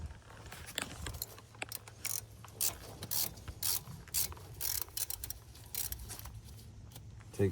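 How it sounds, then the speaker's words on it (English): A hand ratchet clicks in quick bursts while loosening a brake caliper bracket bolt on a Crown Victoria, close and fairly quiet with short pauses between strokes. "Okay, so a ratchet on the bolt, identical bolt up top."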